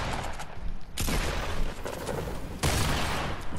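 Shotgun blasts in a shotguns-only video game, heavy booming shots landing in quick succession with broad, loud bursts near the start and again toward the end, no voices over them.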